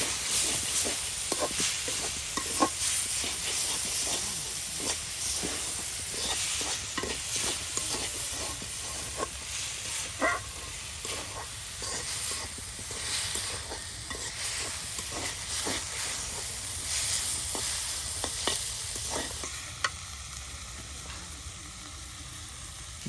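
Bottle gourd (lau) bhaji sizzling in a hot pan, a continuous close hiss broken by frequent light scrapes and clinks of a spatula stirring it, with no talking.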